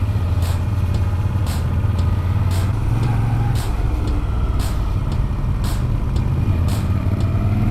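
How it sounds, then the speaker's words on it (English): A 2018 Moto Guzzi V7 Special Edition motorcycle rides Italian mountain roads, its engine a steady low drone with wind rush throughout and faint periodic clicks, loud and continuous with no talk. "Riding Moto Guzzis through the mountains of Italy."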